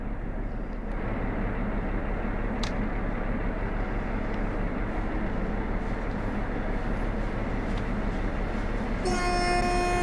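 Train departing in Train Sim World 2 on the Tharandter Rampe, with a Vossloh G6 shunting locomotive in the scene: steady loud rumble of rolling stock, and a horn-like tone rising near the end.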